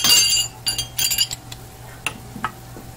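A metal spoon clinks against a glass jar and dish while a tablespoon of fig jam is scooped into a sauce for coconut pineapple wings, giving a few sharp, close taps spaced out over quiet kitchen background.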